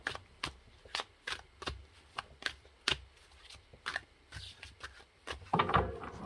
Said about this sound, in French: je vous invite du coup à choisir entre les 3 objets pendant que je remélange un petit peu